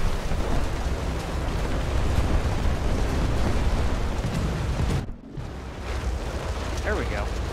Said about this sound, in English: Bombs into spawn.